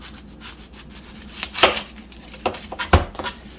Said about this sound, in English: we'll just cut the onion in half, turn it